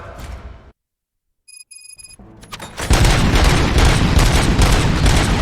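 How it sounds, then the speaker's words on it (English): Gunfire in the RoboCop: Rogue City video game: a short electronic ringing tone after a silent gap, then a loud sustained burst of rapid gunshots that continues to the end. "Gunshots? What's going on?"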